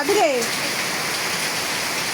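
Steady rain pours down outdoors as an even, continuous hiss, with a brief rising and falling tonal cry near the start.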